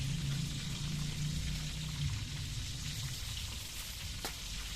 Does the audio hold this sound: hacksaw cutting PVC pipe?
no